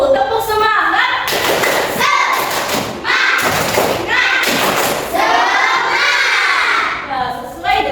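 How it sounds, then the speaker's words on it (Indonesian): A class of primary school children does a rhythmic spirit clap, loud bursts of clapping and thumps alternating with shouted chanting from the group, close and energetic. "Tepuk semangat."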